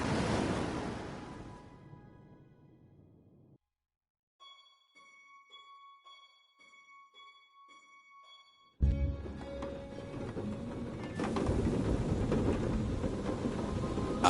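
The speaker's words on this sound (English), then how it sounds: "Outside, the storm raged." A raging storm outside a lighthouse in the Fisherman's Tale game: a loud rumble of thunder and rain fades out, a few seconds of quiet chiming tones follow, then heavy rain and thunder surge back and keep pounding to the end.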